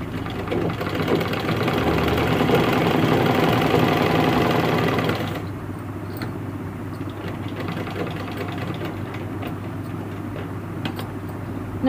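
A sewing machine runs steadily while stitching a pant at a tailoring class, a close, rhythmic mechanical whir that drops to a quieter, lower hum about halfway through, with no talk.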